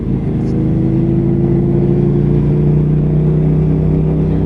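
A KTM Super Duke R motorcycle engine accelerating, heard close and loud as a steady droning tone rising gradually, with wind noise underneath.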